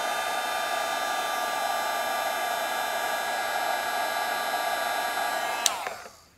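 Heat tool melting embossing powder on a card, a steady loud fan whine with a constant electric hum that runs unbroken before switching off near the end.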